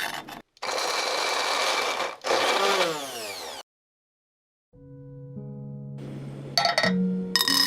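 A loud electric grinder pureeing onion and garlic whirs in bursts, cutting out briefly between runs, then falls silent before a quieter mechanical hum and clatter resume.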